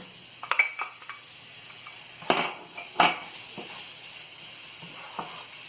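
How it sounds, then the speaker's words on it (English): Onion sizzles steadily in a hot pan, with occasional clinks and scrapes of a utensil stirring against the metal, close and fairly quiet. "This is how I know everything is heating, everything is cooking properly over here."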